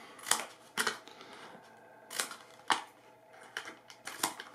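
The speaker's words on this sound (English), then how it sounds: "To make a flat piece here, you can just simply cut along the corners." Scissors snip through the corners of a plastic margarine container, several sharp crisp cuts spaced irregularly against a quiet background.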